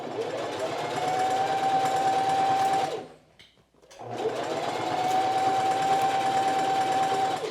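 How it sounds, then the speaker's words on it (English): Two sustained runs of buzzing machine stitching on a quilted jacket dart, each carrying a thin steady whine from the motor, with a short silent gap between them as the sewing machine pauses. "I've come over to the sewing machine and we start at the outer edge."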